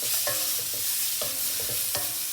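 Ginger garlic paste stirred in a hot pan crackles and sizzles, with a spoon scraping in a loose repeating rhythm, close and fairly loud.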